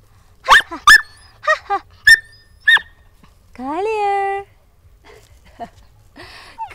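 Dogs bark in several sharp, close yips spread over a few seconds, followed by a longer drawn-out whine or howl and a few quieter yelps.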